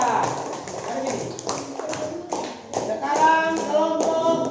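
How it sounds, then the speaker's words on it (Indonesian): Scattered applause and light tapping from a group of students cheering for the third group in a classroom activity, a few irregular claps close by with voices talking alongside. "Tepuk tangan untuk kelompok 3."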